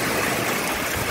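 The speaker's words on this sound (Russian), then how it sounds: "вот это ливень" Heavy rain pours down on a garden in a storm, a loud, dense and steady roar of water with no break.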